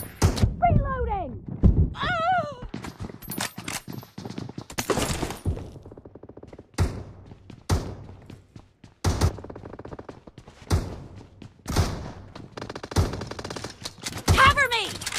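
Gunfire in the mobile battle royale game BGMI crackles in sharp single shots and quick bursts scattered throughout, mixed with in-game voice callouts.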